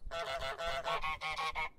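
A video game goose honks loudly and repeatedly, about six harsh nasal honks in quick succession, close and clear with no talking.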